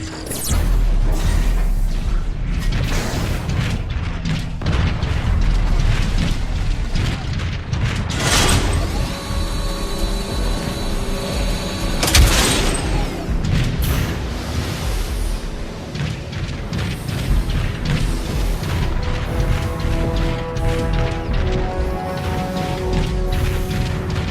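Heavy booms and rumbling blasts of artillery fire in Transformers: Fall of Cybertron, loud and continuous, layered with mechanical clanks, whooshes and tonal game effects.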